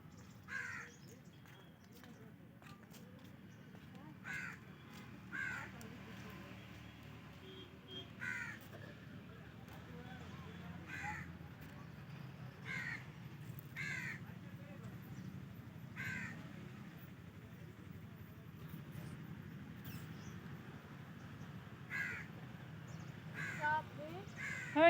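Crows caw again and again near Hamisar lake in Bhuj, with single and paired calls scattered through a quiet outdoor scene, fairly faint, alongside soft voices.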